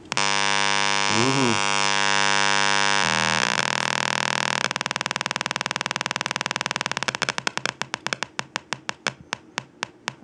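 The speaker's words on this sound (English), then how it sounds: "That is 2 hertz, 2 impulses per second." A loudspeaker driven by a Rigol DG1011 function generator drones with a steady buzzing tone, then breaks into a fast train of sharp pulses that gradually slow toward a regular beat of about two clicks per second, close and loud.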